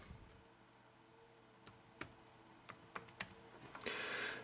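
A password is typed on a computer keyboard in scattered, sparse key clicks, then a brief rushing burst at the end, with no one talking.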